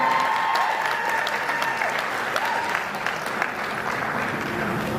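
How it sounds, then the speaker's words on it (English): A crowd at a wedding reception applauding loudly and steadily, with scattered cheers and whistles mixed into the dense clapping throughout. "Let's give her a round of applause."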